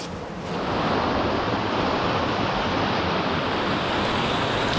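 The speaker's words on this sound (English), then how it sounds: "This water is super fast and it's extremely slippery just here." Fast-flowing river water rushing through a narrow gully, a loud, steady broadband roar that swells in the first second and then holds constant and close throughout.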